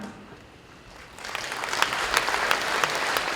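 Audience applause at a civic urban forum in Goyang, rising after a quiet first second into steady, dense clapping that fills the hall and holds to the end.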